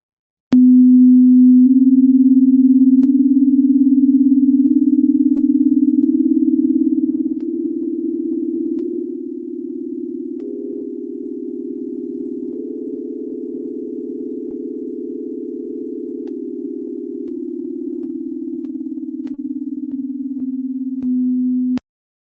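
Steady electronic sine-like tones of a musical scale tuned to 432 Hz, held notes shifting gradually in pitch one after another, loud and clean with no talk over them.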